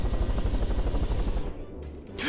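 Steady, rapid rotor chop of a helicopter flown in a video game, loud and continuous for about a second and a half, then thinning out into fainter noise with a brief sharp burst at the end.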